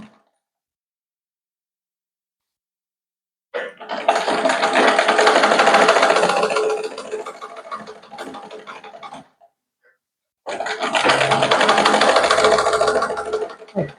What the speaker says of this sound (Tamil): இப்படி ஓரத்தில் ஒரு தையல் போடணும்.